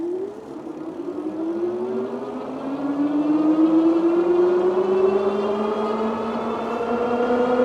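A Jansno X70 electric bike pulling away on throttle alone, its motor whine sweeping steadily upward in pitch as speed builds, loud and close with a few breaks in the rising tone and no talking.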